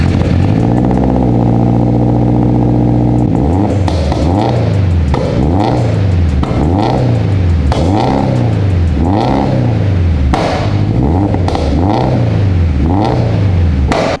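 A turbocharged Scion FR-S with its FA20 flat-four idles loudly, then gets blipped in a run of repeated rising-and-falling revs, close and dominant with no talk over it.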